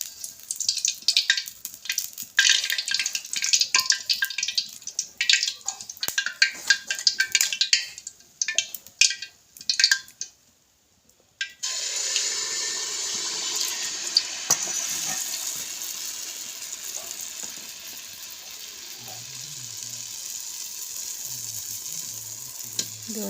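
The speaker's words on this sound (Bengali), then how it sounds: "এইভাবে আমি সব পিঠাগুলো ভেজে নেব।" Semolina pitha frying in hot oil: a dense, continuous sizzle with bubbling crackle. It breaks briefly near the middle, then resumes as a steadier, slightly softer sizzle, with no voices.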